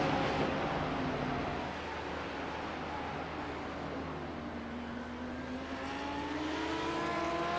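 A BMW GT3 race car at Sonoma Raceway, loud and fairly near, its engine note holding high then sweeping up as it powers uphill, with no talking.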